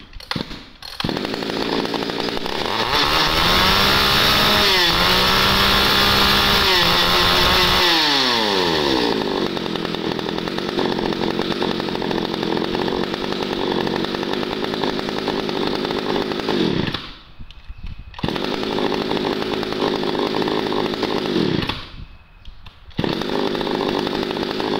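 A chainsaw engine runs loud and steady, revving up and down early on, with a couple of brief drops in sound near the end.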